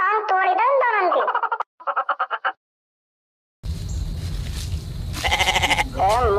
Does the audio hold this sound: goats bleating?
yes